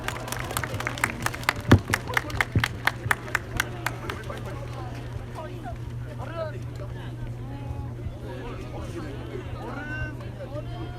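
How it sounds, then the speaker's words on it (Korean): A crowd gives a burst of applause at a ceremony marking the 106th anniversary of the March 1st independence movement in Jeonui, Sejong. The clapping is loud for about four seconds, then fades as talking carries on in the hall. "큰 박수로 환영해 주시기 바랍니다."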